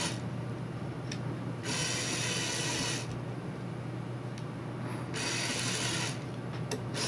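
A Lego Power Functions motor drives the gear mechanism of a Lego crane, giving a steady close mechanical whir with alternating louder grinding stretches and faint clicks.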